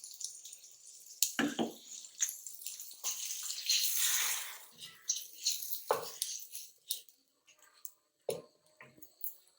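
Water is poured from a bowl into cooking masala in splashing bursts with a few separate sloshes and drips, fairly close. Quieter pauses fall between the pours, and no one speaks.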